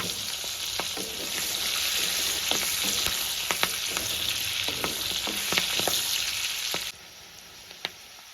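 Five green chillies frying in hot oil, a loud, dense, continuous sizzle with crackling pops and a few stirring knocks, dropping off abruptly near the end to a quieter hiss.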